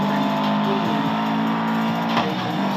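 A race car engine roars steadily in the Need for Speed driving game, loud and continuous with shifting revs and a brief burst near the end.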